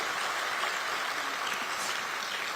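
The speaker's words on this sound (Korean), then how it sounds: "여러분 자축하는 의미로 박수 한번 보내주시죠" Self-congratulatory applause from attendees at a Democratic Party meeting in Gyeonggi; an even, continuous wash of many hands clapping at moderate distance, fairly quiet and unbroken throughout.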